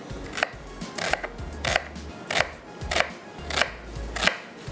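A knife chopping onion on a cutting board in a home kitchen, about eight steady, evenly spaced cuts, close and fairly quiet with no talking.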